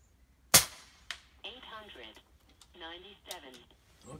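An AirVenturi Avenger bullpup .22 air rifle fires a single sharp crack, shooting 20.5 grain slugs at 90 yards, followed by a faint ring and then someone speaking.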